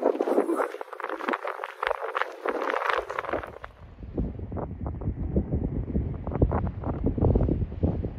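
Gusty wind buffets the microphone on a dusty, wind-blown desert road along a trail in Arizona, a loud broadband rumble that stays strong and fairly steady throughout, with a brief dip midway before the roar builds again.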